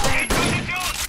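Short, loud bursts of gunfire in the video game Rainbow Six Vegas 2, a couple of quick volleys close by, with a voice speaking over them.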